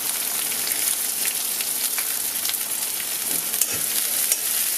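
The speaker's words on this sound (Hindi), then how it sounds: "ये देखिए प्याज हमारा भून करके तैयार हो गया है।" Onions with green chillies and fennel seeds frying in oil in a kadhai, a steady close sizzle with scattered scraping stir strokes throughout, no voices.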